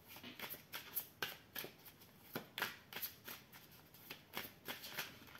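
Oracle cards being shuffled and drawn by hand, giving a steady run of crisp riffling flicks and soft card slaps, fairly quiet and close, with no talking.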